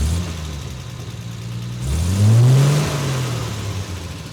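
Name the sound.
car engine revving during transmission check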